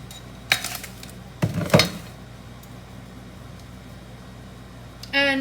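A metal tablespoon clinks against a pot or mug while serving café de olla, a few sharp clatters early on followed by quiet, then a brief voice at the very end.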